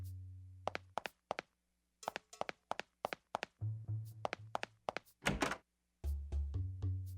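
Rifle slugs being loaded one by one into a shotgun in the PlayStation game Parasite Eve II: a rhythmic series of short, crisp clicks and thunks in near silence, with occasional low tonal menu hums beneath.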